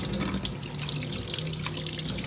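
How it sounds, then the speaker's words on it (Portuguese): Tap water runs steadily into a sink as a mother washes her hands with soap and water before baking, a continuous close splashing stream with no talk over it. "A mãe tá lavando também as mãos, né?"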